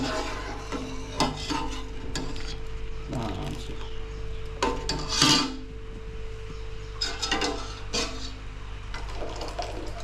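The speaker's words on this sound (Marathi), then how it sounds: "थोडासा उकळ आलेला आहे, घाटून घेतो थोडा." A spoon scrapes and stirs a milk mixture just coming to a slight boil in a pan, repeated rubbing strokes and clinks against the metal over a low steady hum, with no talk.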